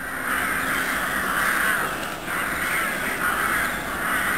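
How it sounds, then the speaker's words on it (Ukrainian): Crows caw repeatedly from nearby trees beside an empty beach, their harsh calls rising and falling in uneven bursts over a quiet outdoor background. "зліва на деревах ворони, створюють шум"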